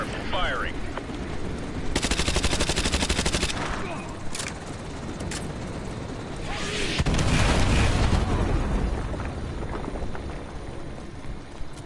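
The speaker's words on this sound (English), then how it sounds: "Fire mission received. Artillery inbound." Modern Warfare 2 campaign battle during an artillery strike: bursts of heavy gunfire and booming impacts, a loud automatic stretch early on and a deeper rumbling barrage later, with game chatter faintly under it.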